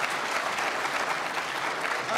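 A dense, steady round of audience applause fills a collegiate cyber defense competition awards ceremony, with many hands clapping at once in an unbroken wash of sound.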